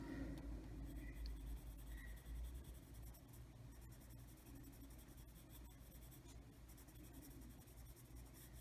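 Colored pencils scratch and scrub across paper while someone colors, a continuous soft, close scratching that holds steady throughout with no talking.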